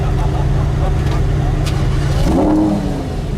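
A Lamborghini Huracan fitted with an IPE exhaust rumbles loudly and close by, its engine note holding steady before rising briefly in a short rev near the end.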